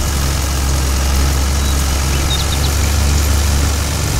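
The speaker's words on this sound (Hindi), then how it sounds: "अब वैसे चल तो रहा है, एवरेज नहीं देगा ट्रैक्टर, इंजन भी जल्दी गर्म होगा" A Sonalika 60 DI tractor engine in Farming Simulator 22 runs at a steady low idle-like drone, loud and continuous with a deep throb, no voices over it.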